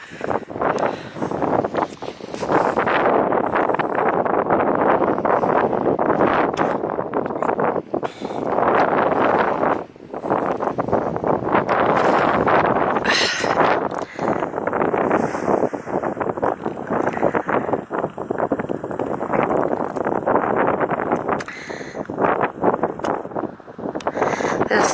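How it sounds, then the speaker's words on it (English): Strong gusting wind on an open hillside walk near Cheddar Gorge buffets the microphone with heavy, continuous roaring rumble that surges and dips, near and loud throughout with no voices. "But it's very windy, it's hard to video."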